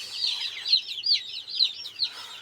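Broiler chicks on a farm give a steady run of high, chirpy peeping and cheeping calls, repeated in quick overlapping bursts and heard close with no talk.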